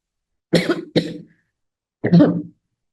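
Three harsh coughs, two in quick succession followed by a third after a short pause, close and loud with silence between.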